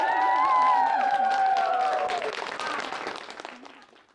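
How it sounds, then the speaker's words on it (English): A crowd claps and cheers for a Sanders Family Winery presentation, with whoops and voices over the applause, which swells early and fades out over a few seconds. "everybody give them some applause"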